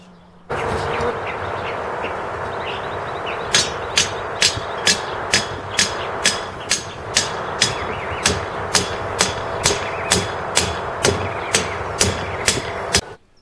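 Sections of rebar are hammered into the ground to anchor a compost cylinder, steady ringing metal strikes repeating about twice a second in a long even series, close and loud, over a constant background hum.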